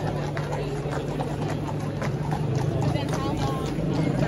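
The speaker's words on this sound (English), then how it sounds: "look, some horses coming through" Horses pass along the road on The Mall during the coronation of King Charles, their hooves clip-clopping steadily beneath a dense, continuous crowd murmur and nearby chatter.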